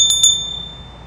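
A small handheld bell is struck twice in quick succession, bright metallic dings that ring out and fade over about a second, close and clear with no talk.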